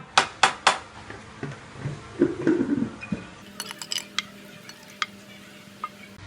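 Several sharp clinks of dishes and utensils, then scraping and stirring, followed by lighter scattered taps as stir-fried chicken with cashew nuts is arranged on a plate.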